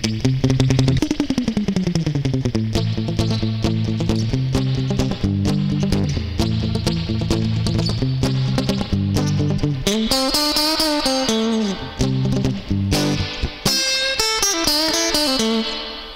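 Electric guitar through a spring reverb unit set half dry and half wet plays surf-style riffs with slides and picked notes, each attack followed by a splashy, drippy metallic ring, loud and continuous with no talking.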